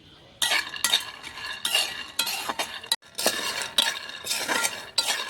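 Roasted peanuts being stirred in a pan before removal for badam pakora, a steady run of close scraping and clinking strokes with brief pauses between them.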